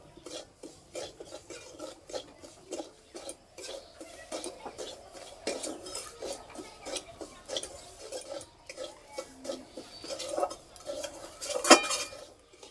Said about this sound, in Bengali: হালকা আছে কিছুক্ষণ ভেজে নেব, যতক্ষণ না সুজির কাঁচা গন্ধটা চলে যাচ্ছে ততক্ষণ এইভাবে নেড়ে নেব।